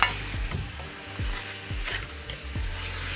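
Yellow turnips sauté in a pan, with a soft continuous sizzle broken by about five rhythmic scraping stirs of a utensil, close and moderately quiet.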